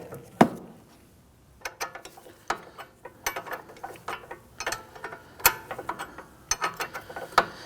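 A hand ratchet loosens a nut on the front strut of a 2001–2009 Volvo S60. Close, sharp clicking comes in irregular bursts after an opening snap and a short pause.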